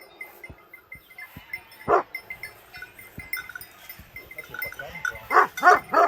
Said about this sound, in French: les belles brebis.